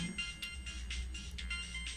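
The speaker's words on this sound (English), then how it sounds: "As I make my way home, I suddenly hear my phone ringing." A mobile phone ringtone in the video game Broken Colors, faint and distant, repeating in short regular bursts over a low background hum.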